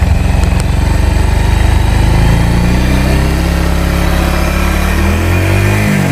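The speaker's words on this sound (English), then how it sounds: "that's the exhaust note, and it doesn't sound that impressive" A Bajaj Pulsar 150 motorcycle with 90,000 km runs close up with a steady, throbbing exhaust note, revving gently and settling back toward idle.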